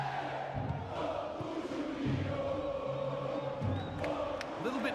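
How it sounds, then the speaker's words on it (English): Stadium crowd noise from an EA Sports FC 26 football match in a Copa do Brasil season, a steady roar of fans pressing for a late equaliser, with commentary voices partly over it. "Well, just listen to this crowd."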